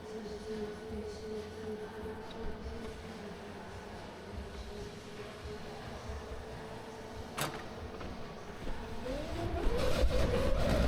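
A go-kart drives on a karting track, weaving side to side to warm its tyres, a steady droning engine heard from onboard with a brief sharp knock partway through and a rising rev near the end, no speech.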